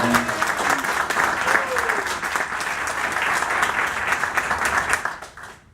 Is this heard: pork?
no